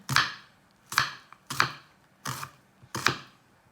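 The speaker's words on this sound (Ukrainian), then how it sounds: "Нарізаємо другу половину цибулі" A knife chops through an onion on a board in five distinct, evenly spaced strikes, close and crisp with quiet pauses between cuts.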